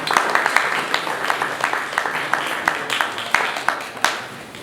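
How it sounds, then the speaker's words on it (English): An audience gives a panel another round of applause at a youth tech day, with loose individual claps rising and thinning across several seconds, moderately close, some claps sharply distinct. "So let's give them one more round of applause."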